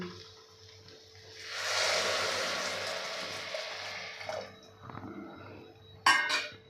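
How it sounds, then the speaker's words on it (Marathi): Water pours into a pot of millet and mung lentils in a steady rushing stream that swells and then tails off, followed by a few soft clinks near the end. "त्यामध्ये आपल्याला घालायचं आहे अडीच कप पाणी"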